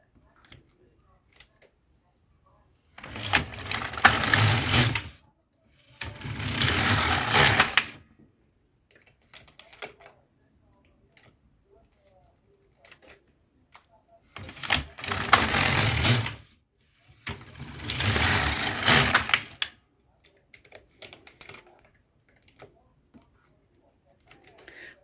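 An LK150 knitting machine carriage makes four rattling, clattering passes as it knits a kerchief, each sweep lasting a couple of seconds with quiet gaps between them, and faint handling noises in the pauses.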